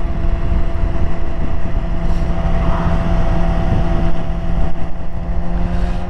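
A car engine held at wide open throttle on a mountain canyon road, droning steadily and loud throughout with no clear break, accompanied by wind and road noise.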